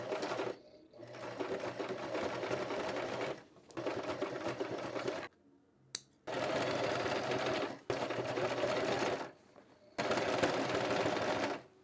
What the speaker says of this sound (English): Obviously I am gonna top stitch so that it's gonna look exactly the same